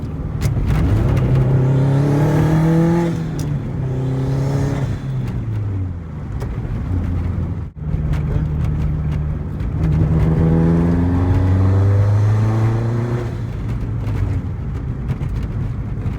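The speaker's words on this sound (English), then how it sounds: "What do you think of the intake noises?" A modified turbocharged 2004 Subaru STI engine revs up and settles twice, the tone and intake noise rising and falling with each pull, loud and close with no talking.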